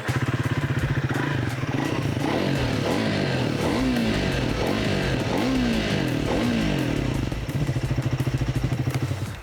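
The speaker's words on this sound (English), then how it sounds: "the Speed 400's exhaust note" A Triumph Speed 400 motorcycle's exhaust note sounds loud and close, a throaty single-cylinder thump that rises and falls with several revs and gear changes, running continuously with no talking.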